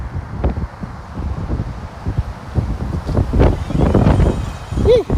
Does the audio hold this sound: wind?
yes